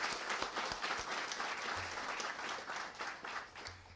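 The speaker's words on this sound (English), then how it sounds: "I'd like to applaud you for that" Audience applause at a community violence intervention event with the Illinois governor and local leaders, a steady, even burst of many hands clapping for about four seconds, somewhat distant and soft.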